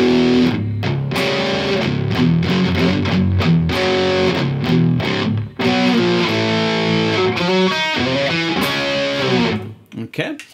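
A distorted electric guitar plays a riff in drop D tuned a half step down, with heavy chugging power chords and palm-muted rhythmic bursts, played slowly and alone.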